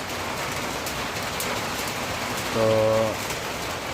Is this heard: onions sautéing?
no